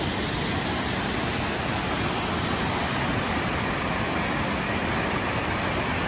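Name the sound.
waterfall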